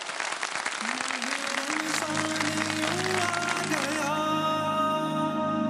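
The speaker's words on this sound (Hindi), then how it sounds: "बहुत सारी तालियां बजा दें।" Studio audience clapping on a Ramadan quiz show, loud dense applause filling the first seconds, then fading under a swelling music sting with sustained tones.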